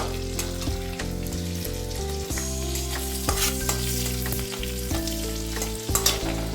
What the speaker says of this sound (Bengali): বাটার দিয়ে করছি রসগোল্লা, তো তেলে অত ভালো লাগবে না, বাটার দিয়ে টেস্টটা ভালো লাগবে।